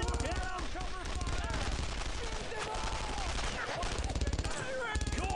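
Dense bursts of gunfire in the World War II shooter Brothers in Arms: Road to Hill 30, with shots cracking over and over amid battle noise while voices shout in the background.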